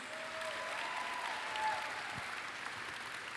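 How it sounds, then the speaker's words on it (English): Steady audience applause at a university evening event, a dense, even wash of clapping sustained throughout at moderate distance. "Let's give them a round of applause."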